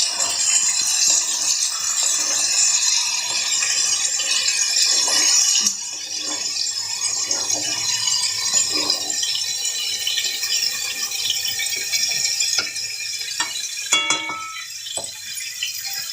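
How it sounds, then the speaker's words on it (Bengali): Chicken meat being stirred and mixed in a pot over a gas flame, with steady clinks and scraping rattles of a spoon against the metal and a continuous wet sizzle underneath, no talk. "আমি এটা মাংসটা ভালো করে একদম মেখে নেড়ে দেবো।"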